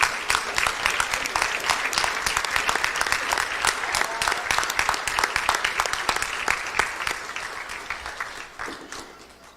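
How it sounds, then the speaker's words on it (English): Big round of crowd applause in a basketball arena honoring the 1969 championship team and their families, loud and sustained with distinct sharp claps throughout, easing slightly toward the end. "Let's give them all a big round of applause."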